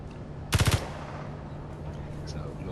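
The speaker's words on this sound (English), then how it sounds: "So this machine gun is pretty awesome." A modded machine gun in the video game Space Engineers fires one quick, loud burst of about four rounds near the start, then a low steady ambient hum carries on alone.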